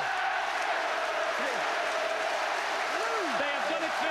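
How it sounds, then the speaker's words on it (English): Rugby league stadium crowd at a Super League match between St. Helens and Wigan, a steady dense roar of cheering and noise filling the whole span, with a commentator's voice rising and falling over it. "Listen to this crowd."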